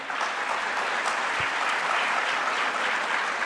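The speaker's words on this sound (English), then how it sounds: "Another round of applause for her." A crowd at an awards ceremony claps steadily and loudly throughout, a dense, even wash of applause with no voices standing out.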